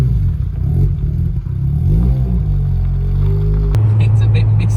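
A freshly rebuilt bridgeported Mazda RX-8 rotary engine droning on a drive through the Yorkshire Dales, a loud low hum inside the car with the pitch rising and then settling, and voices talking over it.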